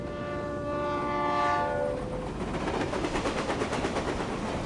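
A train in the video game Reverse: 1999 sounds a sustained horn blast, then rolls past with rapid rhythmic clickety-clack of wheels over rail joints, close and loud, no voices.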